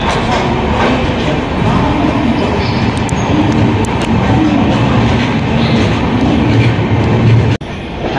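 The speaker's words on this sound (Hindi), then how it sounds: "देखिए भाई अपनी ट्रेन का डिपार्चर।" The Udhampur Weekly Express departs with a loud, continuous rumble and rhythmic clatter of wheels on the rails, heard up close from on board, with a brief dip and a sharp knock near the end.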